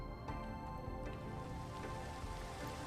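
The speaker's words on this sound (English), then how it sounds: "Stupid rain." Steady rain falls in the Minecraft FTB modpack, a dense, even hiss with faint drop patter throughout and no talking.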